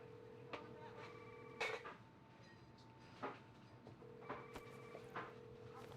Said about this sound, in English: Oh, c'est son téléphone.